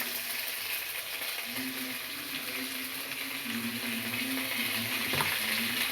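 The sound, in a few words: onion, garlic and green chilli paste frying for crab curry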